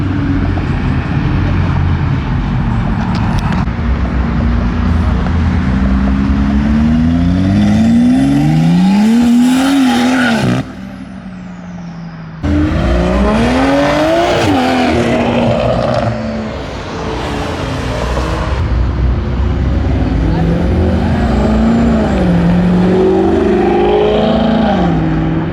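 Modified cars and trucks revving hard as they leave a Texas car show, loud engines climbing through repeated rising pulls one after another, with a brief drop-off midway and crowd noise around.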